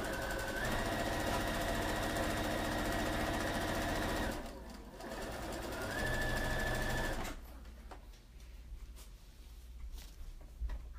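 Sewing machine stitching a maxi skirt, running in a steady close whir that briefly drops off around the midpoint, resumes, then stops, leaving quieter rustling handling sounds.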